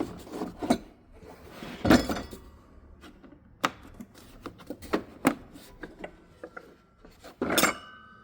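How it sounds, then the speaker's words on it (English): Metal oil filter wrench set for a heavy-duty filter being handled during a Mercedes SLK 320 oil change, with a run of sharp clanks, clinks and clatters spaced irregularly, close by and fairly loud, with no talking. "I have this set for the heavy duty oil filter. Wrench set."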